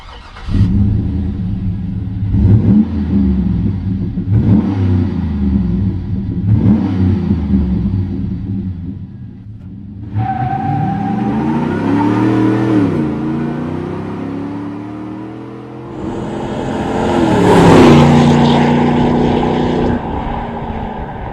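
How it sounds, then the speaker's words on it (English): A 2012 Chevy Silverado 1500 pickup fitted with a Borla Touring exhaust, its engine note rising and falling through several revs and accelerations, then a longer pull and a final loud surge, heard close with no talk. "Now, Borla's Touring exhaust is only slightly louder than stock, but the note is noticeably different."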